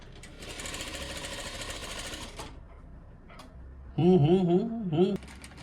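A sewing machine stitches blouse fabric in a steady, fast mechanical rattle for about two seconds, then pauses briefly before a louder, higher whirring burst near the end.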